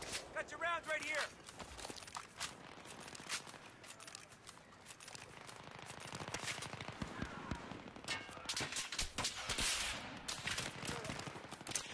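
Battlefield 3 gunfire crackling in repeated sharp bursts and single shots across the whole stretch, mixed with footsteps and movement, while someone talks over much of it.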